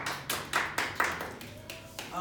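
A few separate hand claps for the hosts at a business program event, sparse and uneven, about eight distinct claps at moderate level with faint voices underneath.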